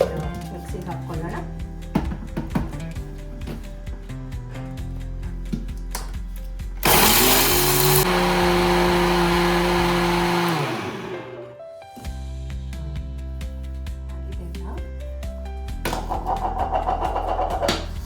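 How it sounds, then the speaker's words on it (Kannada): A kitchen mixer grinder blends mixed dals with fenugreek seeds and salt, starting as a loud steady whine for a few seconds, then spinning down to a stop before quieter background sounds return. "ಎಲ್ಲ ಇವಾಗ ಜೊತೆಗೆ ಮಿಕ್ಸಿಗೆ ಹಾಕ್ಕೊಳ್ಳೋಣ."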